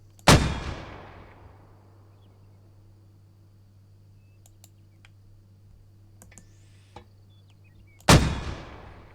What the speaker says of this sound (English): Okay, 2 rounds, HE firing.